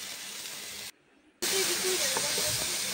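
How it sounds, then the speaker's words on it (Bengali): Spice paste with nigella seeds fries in hot mustard oil, giving a loud, close, continuous sizzle. After a brief quiet gap it resumes even louder, with faint clinking underneath. "তেল দিয়ে মশলা দিয়ে কালো জিরে দিয়ে কষে নিচ্ছি"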